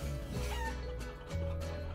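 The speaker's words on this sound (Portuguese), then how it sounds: "Várias galinhas, mano." Several chickens clucking in the video game Guacamelee!, a busy overlapping chorus of clucks over a low steady game hum.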